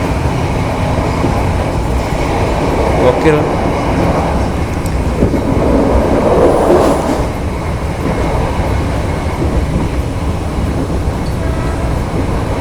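Loud, steady rumbling of an old diesel railcar engine on the Purwodadi–Semarang line, with rattling carriage noise throughout; a voice briefly exclaims once.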